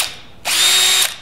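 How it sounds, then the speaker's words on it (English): A small Makita power drill whirs briefly on low speed, a short steady burst that spins up and stops, close and alone. "I happen to know my little trusty Makita drill on low."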